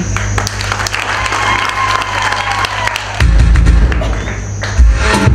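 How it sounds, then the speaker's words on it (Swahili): Dense, loud applause from a crowd at a building-opening ceremony for a girls' safe house in Butiama, Tanzania, clapping steadily throughout and swelling louder near the end. "Jamani, mpigieni makofi mengi, mpigieni makofi mengi."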